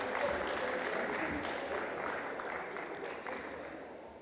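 An audience applauds guests coming on stage at a literary conversation event, a steady, dense round of clapping that holds throughout and tapers slightly at the end.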